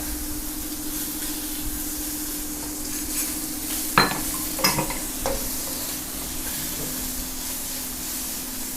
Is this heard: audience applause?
no